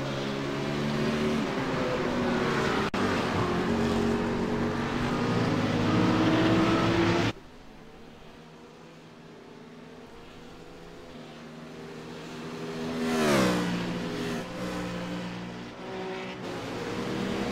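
GT3 race car engine in the iRacing sim at Suzuka: a loud, high-revving engine droning through upshifts, cutting abruptly, then a quieter car note rising and sweeping past before fading.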